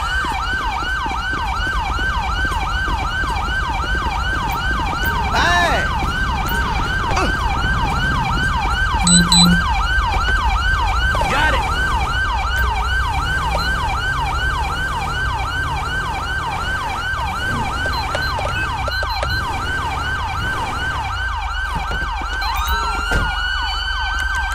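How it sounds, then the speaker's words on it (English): Police car siren in the video game GTA V with the LSPDFR mod, wailing continuously and loudly up close over a low engine rumble, its rising and falling cycles repeating steadily with brief chirps mixed in. "can we stop running our frickin' siren"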